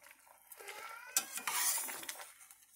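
Orange juice reducing in a pan is stirred with a utensil, producing a short burst of close scraping and clinking against the pan over a faint sizzle, with quiet gaps between strokes.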